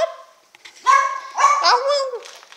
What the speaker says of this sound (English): she's gonna keep barking at the door until we let her in